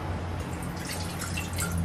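A little water poured into a pan of greens being cooked for bhaji, a close, steady splashing drip heard alone without talk.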